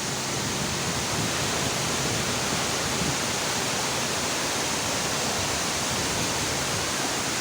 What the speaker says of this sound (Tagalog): First time natin makakita ng falls.